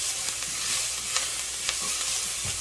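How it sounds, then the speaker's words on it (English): Garlic hits a pan of lightly browned onions and sizzles in a steady, close hiss, with a few faint stirring clicks along the way and no talking. "go ahead and throw in the garlic"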